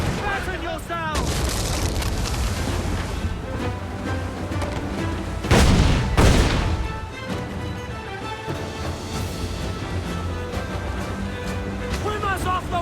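Ship cannons fire in Assassin's Creed IV: Black Flag naval combat, one heavy booming volley rising out of constant sea-battle din midway, while voices shout orders before and after.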